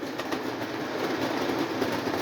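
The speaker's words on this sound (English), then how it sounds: "full diesel engine, pulling two A&W boxcars" Lionel Chessie System diesel model train pulling two A&W boxcars, a tanker and a crushed boxcar, running as a steady, even rumble throughout with faint clicking from the track.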